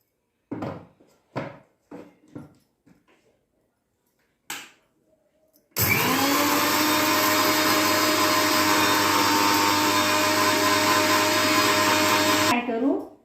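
A mixer grinder grinds two spoons of sugar and one spoon of salt: a few brief voices first, then a loud, steady whirring roar that runs for about seven seconds and cuts off abruptly.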